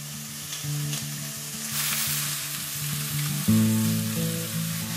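Food frying in hot oil in a restaurant kitchen, a steady sizzle running under a sustained tonal hum, close and continuous with no speech.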